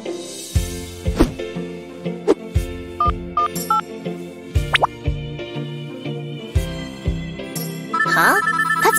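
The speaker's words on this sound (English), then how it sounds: "That's my phone ringing." A mobile phone ringtone plays a bright, plinking electronic melody of repeated short tones at steady volume, nearby and without talk.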